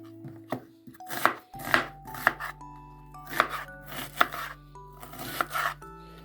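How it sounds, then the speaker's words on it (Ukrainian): Kitchen knife chopping an onion on a board, with about a dozen crisp, close knocks coming in quick bursts of two and three over a low steady hum. "Цибулю я поріжу"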